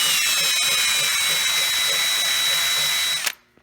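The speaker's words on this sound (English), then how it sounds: "You take your larger drill bit and you just run it in there, run it around in a circle like that." An electric drill spins a larger bit inside a homemade air nozzle to ream out burrs, giving a loud, steady, close whine that cuts off abruptly near the end.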